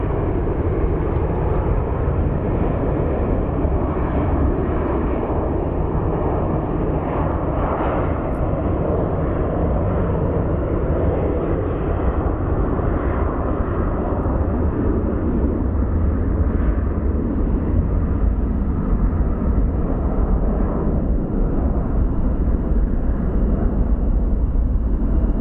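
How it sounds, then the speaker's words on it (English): A heavy airliner roars past at Phoenix Sky Harbor International Airport, a loud, steady, broad rumble of jet engines that fills the whole stretch without letup, with no voices. "It's a heavy plane."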